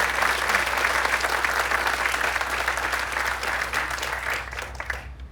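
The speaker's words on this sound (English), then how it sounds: "So just a round of applause for all the 8th grade students" At the Hawaiʻi Preparatory Academy 8th grade transition ceremony, an audience gives full, continuous applause for the 8th grade students, thinning slightly just before it stops.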